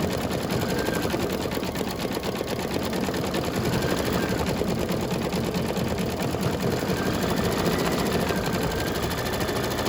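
An embroidery machine stitches a beer mug design on a St. Patrick's Day coaster. The needle chatters in a fast, even, continuous rhythm, close and steady for the full ten seconds with no talk.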